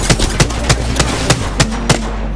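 Loud, evenly spaced shots from a rapid-firing weapon in Apex Legends crack out about every third of a second, close and alone with no talk.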